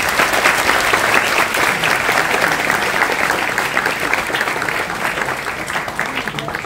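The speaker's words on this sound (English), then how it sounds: "I would want you all to please give him a big round of applause." A large audience at IIT Bombay applauds Google Maps co-founder Lars Rasmussen, a loud, dense, steady round of clapping that carries on unbroken for several seconds.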